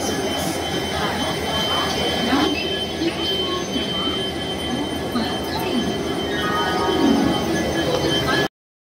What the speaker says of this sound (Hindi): अभी हो गया मेरा ट्रेन स्टार्ट